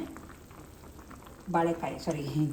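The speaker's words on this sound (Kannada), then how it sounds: "ಒಂದೇ ಟ್ರಿಪ್ಗೆ 2 ಸೈಡು ಗೋಲ್ಡನ್ ಬ್ರೌನ್ ಆಗೋವರೆಗೂ ಫ್ರೈ ಮಾಡೋದು ಅಷ್ಟೇ" Sweet potato pieces going into a little hot oil, with a fairly quiet start and then a sudden burst of sizzling and bubbling a second and a half in, close by. A short second burst follows.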